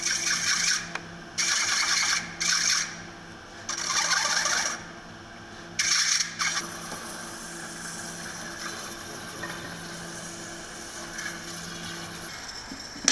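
A metal spinning machine shapes a lamp bezel for a Ford Model A, giving a steady mechanical hum broken by several loud rasping scrapes in the first half, then a quieter continuous whir.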